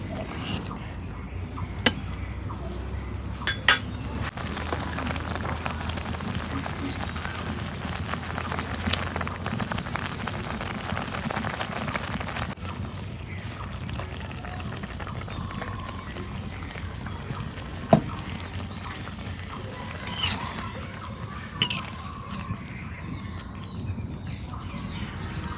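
Pangas fish frying in hot oil in a pan, a continuous crackling, spattering sizzle at moderate volume with a few sharp pops and clinks, steady throughout.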